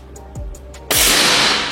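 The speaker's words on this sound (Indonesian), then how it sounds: "Kita coba di tembakan yang keempat." A PCP air rifle fires one sharp shot up close, a sudden loud crack followed by a bright, hissing burst of air that fades slowly, preceded by a few faint clicks and a low thump.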